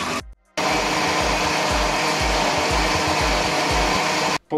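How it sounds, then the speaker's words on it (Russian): A kitchen blender whirs loudly and continuously while blending sliced oranges for homemade juice, with a rhythmic churning pulse, after a brief start and pause. "Получившуюся нарезку помещаем в блендер."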